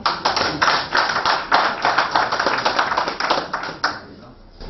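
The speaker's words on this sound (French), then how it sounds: "Nous applaudissons." An audience claps at a product testimonial event, with dense and steady applause from many hands that fades toward the end.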